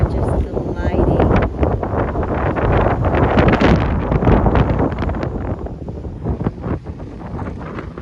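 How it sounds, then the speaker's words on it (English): Strong wind buffets the microphone in loud, rough gusts at a high spot with pelicans flying, a voice speaking underneath and a brief lull toward the end. "And it is so windy up here."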